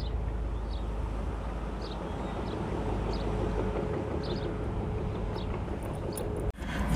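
A lifeboat and sea tractor coming ashore, a steady low engine drone rumbling continuously under wind, with faint chirping in the background and a brief knock near the end, no talking.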